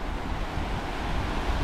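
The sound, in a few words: big waves and strong wind at sea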